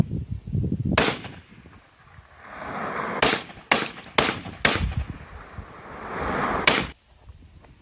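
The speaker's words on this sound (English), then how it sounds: "People are shooting at it." Gunshots fired at drones over New Jersey ring out as a series of sharp loud cracks, one early, then a quick burst of four close together and a final one, each with a ringing echo, heard through recorded playback.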